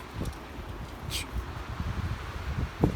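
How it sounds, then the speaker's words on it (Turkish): Gusty wind buffets the microphone in low rumbling bursts, with a brief hiss of rustling partway through. "Çok rüzgar var arkadaşlar."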